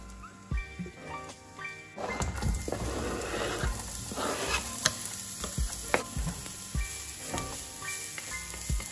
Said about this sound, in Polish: wszystko będę smażyć na takim oleju z awokado